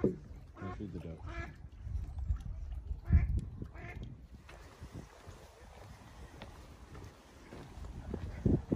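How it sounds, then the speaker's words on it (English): A duck quacks in short nasal bursts on an Appalachian Trail stretch between Rutland, Vermont and Lincoln, New Hampshire, with several calls close by in the first half, then outdoor background noise. "Feed the duck."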